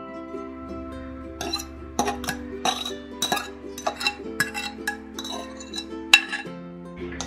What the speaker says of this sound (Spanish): Y lo vamos a revolver